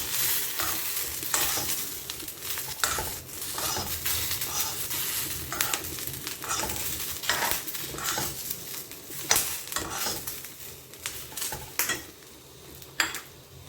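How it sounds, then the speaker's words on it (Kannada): Cumin seeds roast in a pan while being stirred for spicy thecha paratha, repeated scraping and rattling strokes of a spoon against metal over a soft, steady sizzle. "ಈಗ ಇದಕ್ಕೆ ಜೀರಿಗೆ ಇನ್ನೂ ಸ್ವಲ್ಪ ಹುರ್ಕೋಬೇಕು."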